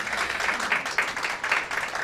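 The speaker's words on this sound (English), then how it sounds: "Let's give Team Cherry Blossom Festival a big round of applause." Moderate applause from attendees at the National Cherry Blossom Festival kick-off press conference, a thinner patter of individual claps that swells in small bursts.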